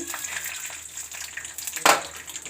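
Cashews and raisins frying in hot oil, a steady close sizzle and crackle with a sharper burst of spatter near the end.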